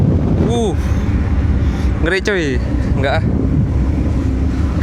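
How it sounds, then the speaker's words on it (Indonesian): Strong wind roars steadily on a ship's top deck as people talk and laugh over it, their voices rising and falling in short bursts. "Wah, kencang anginnya."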